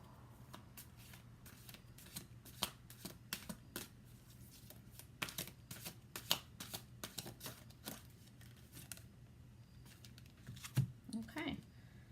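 Mother Mary Oracle cards are shuffled by hand in a run of quick, crisp riffles and soft slaps, close and fairly quiet, over a faint low hum, with a brief murmur of voice near the end.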